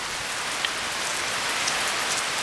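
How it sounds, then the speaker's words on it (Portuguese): Steady rain falls under a fully overcast sky in Juína, Mato Grosso, just after a downpour has begun. A constant, dense hiss of drops fills the whole stretch at an even level, with no voices. "E, ó, e a chuva tá caindo."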